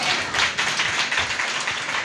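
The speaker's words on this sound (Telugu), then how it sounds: "గట్టిగా చప్పట్లు కొడదాం." A church congregation claps hands loudly together, dense continuous applause-like clapping filling the space with rapid overlapping slaps throughout.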